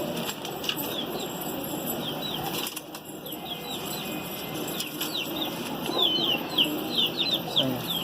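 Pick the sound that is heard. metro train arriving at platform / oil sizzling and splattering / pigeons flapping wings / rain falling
pigeons flapping wings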